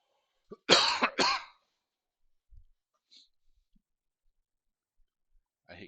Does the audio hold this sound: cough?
yes